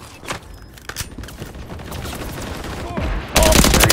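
Gunfire from a sniper fight in Modern Warfare 3 comes as scattered sharp cracks over a busy background, then a sudden loud, dense burst near the end.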